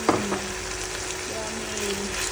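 Vegetables with chicken, ginger and pickled egg for cap cai stir-fry in a pan, a steady moderate sizzle with a few soft clinks of stirring near the start.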